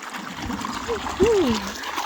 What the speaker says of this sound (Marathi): इथं उसाला द्यायला पाणी चालू बघू शकता पाणी कसं पाणी